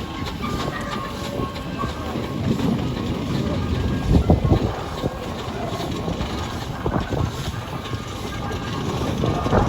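A Fowler steam traction engine rolls past the commentary point in a steam rally parade, a steady mechanical chuffing and rumble with clanking rising and falling against a windy outdoor background.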